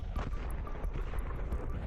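Grenade blasts in a Counter-Strike 2 match, two nades thrown into the pit, heard as dense, rumbling low booms with crackling bursts, loud and continuous throughout.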